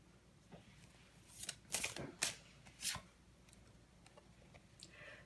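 Tarot cards are drawn and slid from a deck in a quiet room. A soft run of papery swishes and flicks comes in short close bursts, with a few fainter rustles before and after.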